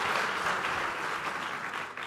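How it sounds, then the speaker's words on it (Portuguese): Audience applause at a social entrepreneurship award ceremony in Portugal, a continuous, even wash of clapping from many people, moderately loud and fading slightly toward the end. "Só por isso já merecem uma salva de palmas."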